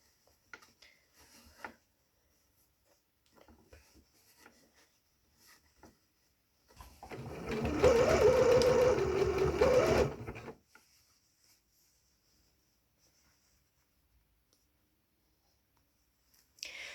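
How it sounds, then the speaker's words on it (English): A sewing machine runs in one burst of about three seconds while stitching legs onto handmade underwear, amid quiet ticks and handling noises before and after. "So stitching the legs on. Pull them to make them fit again, just like you did with the waistband."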